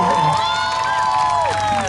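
A large outdoor concert crowd at a hot air balloon carnival in Luye Gaotai, Taitung, roars and cheers loudly and continuously, with shouts and whoops rising above the din.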